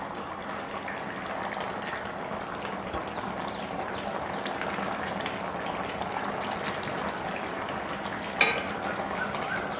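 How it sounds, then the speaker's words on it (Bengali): Fish curry with cauliflower, green chillies and coriander leaves simmers in a pot, giving a faint, steady bubbling with one small clink near the end. "দু মিনিট মতন ফুটিয়ে নেব"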